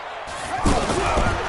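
A stadium crowd in a football video game swells into a loud, broad roar ahead of a big third down, rising abruptly partway through under play-by-play commentary.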